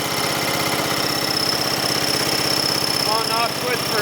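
Wizard riding lawn mower with a 12 horsepower engine running just after a cold start, a loud steady rapid chugging idle close by throughout.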